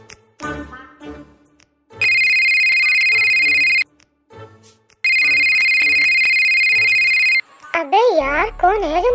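A telephone rings in two long, loud electronic bursts, each lasting a couple of seconds, between stretches of people talking nearby.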